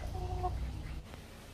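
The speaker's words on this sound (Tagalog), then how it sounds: "Ito yung ating mga Brahma na manok." Brahma chickens cluck close by, with a couple of short tonal clucks followed by softer farmyard rustle and a low rumble underneath.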